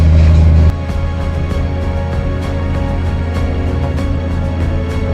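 A 150 hp tractor drives out to the field with a steady, loud low engine drone. Faint rattles and knocks come through on top of the hum.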